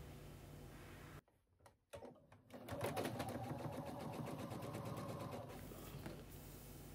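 A sewing machine runs a steady stitching line along the folded edges of a cotton waffle towel, a close, continuous mechanical whir after a short pause and a few brief knocks.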